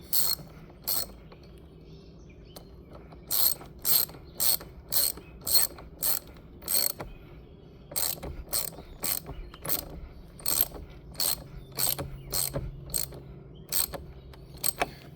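A ratchet tightens the battery terminal on a 2025 Jeep Wrangler 2.0, clicking in quick steady bursts of rapid pawl ticks with short pauses between strokes, close and clear with no talking.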